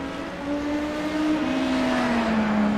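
An LMP2 prototype race car in iRacing at the 12 Hours of Sebring, its engine a steady droning tone that slowly falls in pitch as the car runs on a lift-and-coast lap, loud and close throughout.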